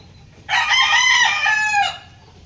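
A single loud hen call, a drawn-out crowing squawk lasting over a second, close to the microphone.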